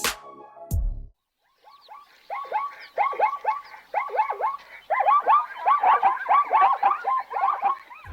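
Following a brief sharp noise and a moment of quiet, a zebra starts a series of barking, yelping calls that grow louder and denser, repeated in quick bursts at close range.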